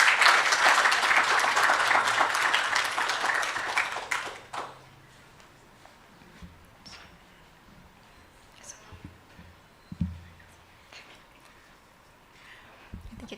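An audience at a launch event gives loud, dense applause after a song. The clapping lasts about four seconds, then fades into a quiet room with a few faint knocks.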